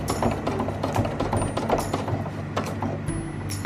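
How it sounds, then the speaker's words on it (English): A sewing machine stitching over webbing, giving a close, steady mechanical clatter of rapid rhythmic ticks and whirring gears with no talk. "reinforce the top edge and sew exactly where you sewed before"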